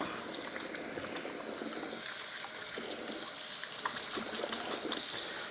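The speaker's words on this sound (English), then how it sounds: "Let's wash my hands." Tap water runs steadily while hands are washed in a kitchen, a continuous near splashing wash with small spatters throughout.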